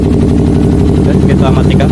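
A Kawasaki Ninja 250 motorcycle engine runs at a steady, loud idle after being started with the ignition key. Its low rumble holds constant throughout and sits close to the listener, with no talk over it.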